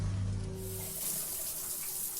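Steady hiss of shower water running in a home bathroom, broad and even throughout, with a low hum fading out in the first second.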